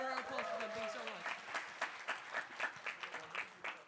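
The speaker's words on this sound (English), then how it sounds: "One more round of applause for them." An audience at a TEDx event applauds, a brief crowd clapping that swells and fades over a few seconds, with a voice speaking over it.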